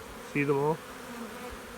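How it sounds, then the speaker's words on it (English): Honey bees flying back to their hive frame make a faint, continuous buzz, briefly covered by a short spoken question. "all the older bees that were on that frame are coming back."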